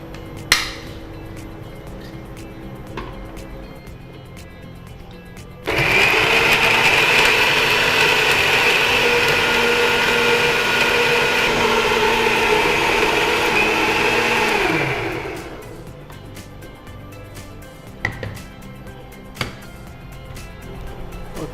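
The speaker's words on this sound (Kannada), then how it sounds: "ಇನ್ನು ಇದನ್ನು ನಾವು ಗ್ರೈಂಡ್ ಮಾಡುವ" A mixer grinder grinds green masala for chicken liver green masala, starting abruptly as a loud, steady motor whir that runs for about nine seconds and then winds down, with quiet kitchen clinks before and after.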